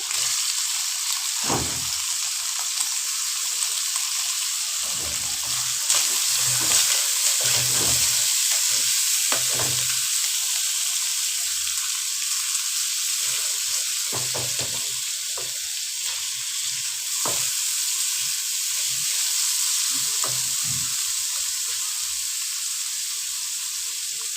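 Chicken pieces with green chilies fry in a hot pan, a steady loud sizzle running throughout with intermittent scraping and stirring knocks of a utensil against the pan.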